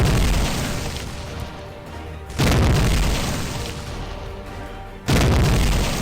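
Three heavy, loud bomb blasts boom out in the video game Legend of Pickaxe, each striking abruptly and fading into a long rumbling tail before the next one hits.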